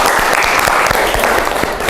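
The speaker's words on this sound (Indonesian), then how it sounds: "beri aplaus dulu untuk kita semua" A classroom audience claps together for a couple of seconds, loud and dense, with scattered individual claps standing out and no voices over it.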